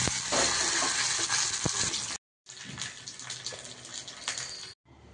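Tempering spices, dried red chilli and curry leaves hit hot oil for ivy gourd chutney, a loud, close crackling sizzle that fills the sound, with two brief cutouts of silence.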